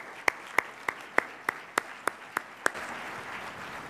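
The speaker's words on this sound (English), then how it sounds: "Let's give them a big round of applause." Audience applause at an education summit for a panel, heard as nine evenly spaced sharp claps in a steady rhythm, fairly close, followed by a soft lingering wash of room noise.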